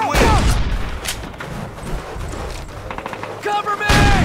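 Dense, loud gunfire and booming blasts from the Call of Duty PC campaign mission Festung Recogne, with rapid overlapping shots throughout. Voices shout over the battle.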